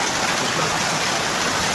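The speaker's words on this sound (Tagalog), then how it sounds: "Lakas na naman ang ulan." Heavy rain pours down steadily, a dense continuous hiss of drops close by with no breaks, loud and alone without voices.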